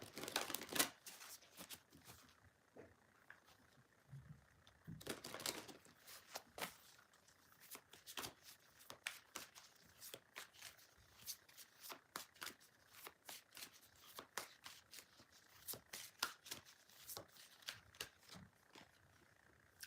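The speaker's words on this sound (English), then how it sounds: "let me give the cards a shuffle" Tarot cards are shuffled repeatedly up close, with quick riffling bursts and sharp papery snaps recurring in a quiet room.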